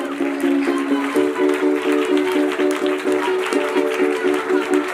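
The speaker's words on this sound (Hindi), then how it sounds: "ताली बिठा करे परमेश्वर के लिए अभिषेक करिए" A church congregation at a Sunday service claps steadily in rhythm, blending with sustained music. The sound is loud and close throughout.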